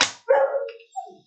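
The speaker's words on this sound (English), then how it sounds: "That is our celebrity dog." A dog gives a single sharp bark followed by a shorter, fainter yip, close and loud against a quiet room.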